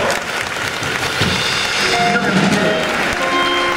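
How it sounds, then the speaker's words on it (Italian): Applause from an audience at a public science night in Verona, with a broad, steady patter of clapping that carries on under scattered voices and brief tonal sounds in the room. "Un applauso."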